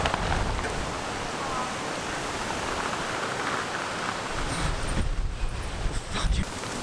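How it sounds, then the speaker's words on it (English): Wind roars across the microphone at a muddy mountain bike race, a loud, steady broadband rush that buffets a cyclist's flapping jacket and briefly cuts out near the end. "Jacket like blowing in the wind."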